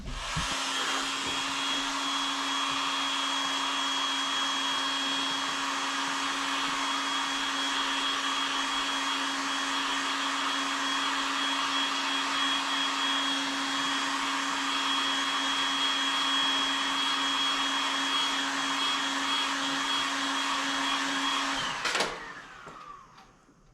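A heat gun blows a steady, loud whirring hiss at close range while warming the plastic bumper of a 2018 Dodge Charger Hellcat, running unbroken for about twenty seconds before cutting off abruptly.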